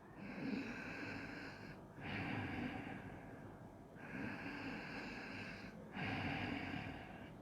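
Slow, raspy breaths drawn through the throat during a yoga breathing exercise, alternating long inhales and exhales in a steady rhythm, close and fairly loud, sounding like snoring.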